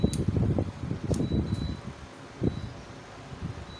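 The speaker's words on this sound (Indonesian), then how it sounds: "saya akan menyalakan inverternya terlebih dahulu" The cooling fan of a 3000 W 24 V low-frequency pure sine wave inverter whirs steadily and fairly quietly after switch-on, with a few soft clicks and rustles nearby.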